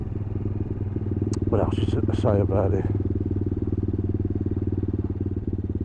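A CCM Spitfire Scrambler motorcycle engine runs at a steady idle close by, a rhythmic low thrum that continues throughout while someone talks briefly over it.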